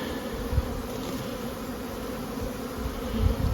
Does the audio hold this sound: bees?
yes